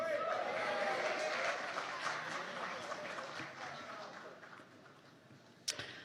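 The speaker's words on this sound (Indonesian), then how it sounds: "Kita beri tepuk tangan buat Bang Habil" Audience applause at an organization's national working meeting: a room of people clapping that gradually fades over several seconds, with a voice speaking through it.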